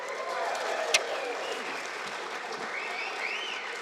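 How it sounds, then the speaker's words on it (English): Warm applause from an audience at the Fruitport Hall of Fame 2022 ceremony, a steady sustained round of clapping filling the hall throughout, with one sharp louder clap standing out near the start. "Please give these members one more warm round of applause"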